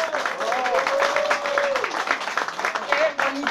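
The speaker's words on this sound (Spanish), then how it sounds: "Un fuerte aplauso, por favor" Crowd applause for a singer at an outdoor community event, steady clapping throughout with a voice speaking over it.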